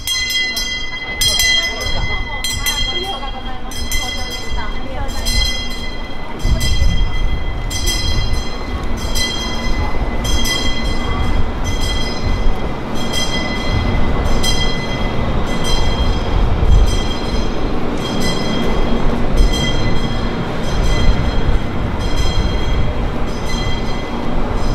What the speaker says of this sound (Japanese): 列車は門司港駅から今日の目的地博多駅へと出発します。